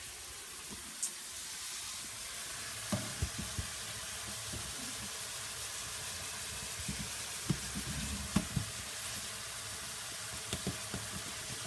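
Ground beef browning in a pan for chili fills the stretch with a steady, close sizzle and hiss, broken by occasional soft taps and scrapes as it is stirred.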